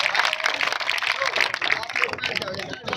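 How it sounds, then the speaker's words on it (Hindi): A crowd at a political speech gives dense, steady applause that carries on for the full stretch. A voice sounds beneath the clapping. "एक बार जोरदार तालियों के साथ साथ स्वागत करें।"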